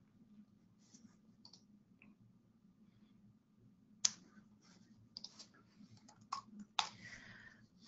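Quiet computer mouse clicks while browsing a library website, a few sparse soft taps early on, then a cluster of sharper clicks in the second half over a low steady hum.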